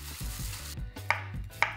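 Knife chopping and mincing garlic, ginger and chili on a cutting board, a few sharp close taps standing out over low steady background noise, no talking.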